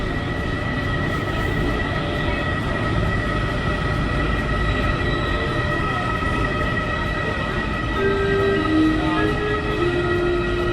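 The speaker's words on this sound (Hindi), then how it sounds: "हमने ली मेट्रो की सवारी और हम पहुँचे city, Jaipur city metro train से" A steady rumbling drone of a Jaipur metro train in motion, heard from inside, with sustained tonal whines from the motors layered over the low roar throughout.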